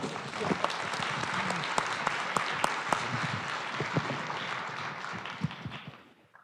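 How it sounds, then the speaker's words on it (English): Audience applause for a panel on decarbonizing freight transportation, dense crowd clapping throughout that tapers off at the very end. "I ask the audience to give a round of applause to our panel."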